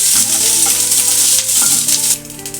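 Grated ginger sizzles loudly in hot oil in a pan, a steady bright frying hiss with faint stirring scrapes, no voices.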